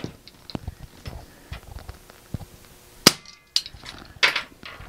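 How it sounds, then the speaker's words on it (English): A Duke 550 trap fires with a sharp metallic snap, followed by a second loud clack and rattling as the jaws and spring settle, amid quieter handling clicks nearby. "I'm going to fire this trap"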